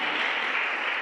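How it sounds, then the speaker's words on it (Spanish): A church congregation applauds during a worship service, a brief burst of steady, dense clapping at moderate volume with no voices over it. "dale fuerte ese aplauso al Señor hoy"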